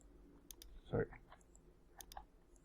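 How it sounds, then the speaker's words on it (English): A single key pressed on a computer keyboard during Maya 3D modelling work, heard as a short, quiet click with a few faint clicks around it in a quiet room. "I just pressed 3 on my keyboard"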